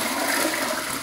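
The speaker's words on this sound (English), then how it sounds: "I bet this flush is going to be pretty horrendous." A 2018 Sterling Wyndham toilet flushes with a loud, continuous rushing hiss of water. Heard up close and alone, without talk.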